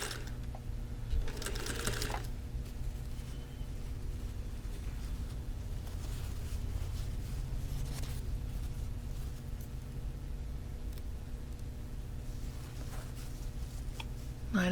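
A sewing machine stitches a curved seam on fabric block pieces for a Wheel of Mystery quilt block, running with a steady mechanical hum and rapid needle clatter that continues throughout, with brief quieter pauses.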